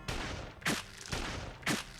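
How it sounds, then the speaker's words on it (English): Gunfire from the Code: Realize video game: two sharp, loud shots about a second apart, each cracking out over a steady hissing background. "Then I hear another gunshot."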